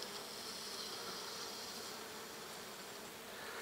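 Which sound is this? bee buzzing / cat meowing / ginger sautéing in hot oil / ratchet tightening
bee buzzing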